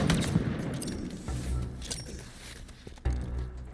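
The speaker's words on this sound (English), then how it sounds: "Oh, those are good nades." Grenade explosions in the Halo video game during a competitive match, heard as dense, rumbling gunfire and booming blasts, with a sharper burst near the end.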